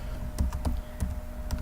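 Short burst of typing on a computer keyboard while writing a note to attach with a file upload: several crisp, evenly spaced keystrokes close by over a faint steady hum.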